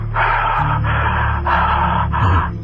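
A voice imitates heavy breathing, a series of four loud, harsh breaths in a steady rhythm, each a drawn-out airy rasp close to the microphone.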